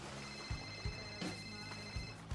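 A phone in the video game GTA RP rings with a repeating electronic tone, its pulses returning at a regular rhythm over a busy game soundscape.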